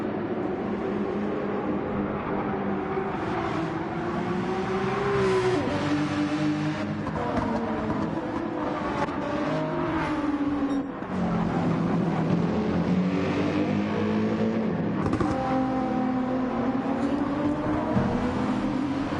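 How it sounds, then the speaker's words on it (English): A high-revving Nissan GT-R race car engine in Gran Turismo 7 howls steadily at Trial Mountain, pitch climbing and dropping through gear changes, loud and sustained throughout. "That GTR has got one of the nicest sounds of a car in the world."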